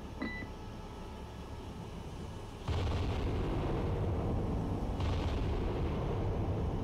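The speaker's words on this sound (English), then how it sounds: "That main battery of ours. Guns, engage." Battleship main battery guns firing in the naval video game Cold Waters, a heavy booming broadside that steps up loudly and holds as a dense rumble, with a second burst a couple of seconds later.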